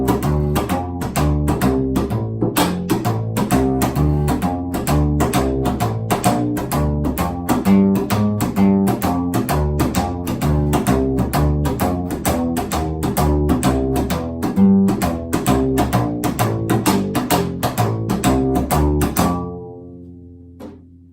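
An upright double bass slaps out a rockabilly double-slap swing rhythm, percussive clicks on every beat driving a walking pattern, alone and close, ending with a ringing final note.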